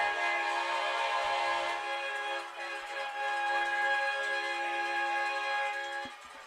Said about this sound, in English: I had to let the train cross the tracks